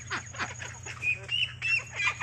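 Chickens of mixed sizes in a coop give a run of short clucks and squawks, fairly faint, over a steady low hum.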